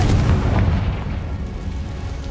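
A Confringo spell detonates in Hogwarts Legacy with a heavy, booming blast up front that rolls off into a rumbling decay over about two seconds, with no voice over it.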